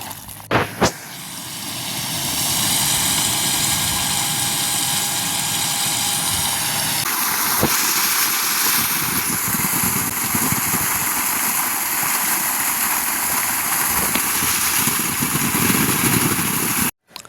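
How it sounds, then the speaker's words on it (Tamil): A 3 hp solar water pump motor runs steadily for a farm drip irrigation setup, producing a continuous broadband whirring hum with a faint high whine and rushing water-like noise throughout. No one speaks. "இந்த மோட்டர்லேருந்து நம்ம மறுபடியும் பம்ப் பண்ணி ட்ரிப்ரிகேஷனுக்கு அவங்க போட போகிறாங்க."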